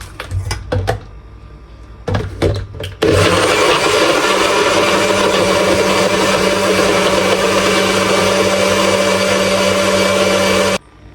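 After a few clicks and knocks, a blender whirs loudly and steadily for about eight seconds while it blends juice with garden parsley, berries and pineapple, then cuts off abruptly.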